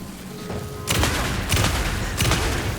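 Shotgun blasts in Alan Wake 2 boom out three times about half a second apart, loud and close, each with a sharp burst and a short rumbling tail.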